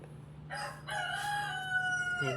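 A rooster crows once, loud and close, its long drawn-out call rising and holding, with a steady low hum underneath.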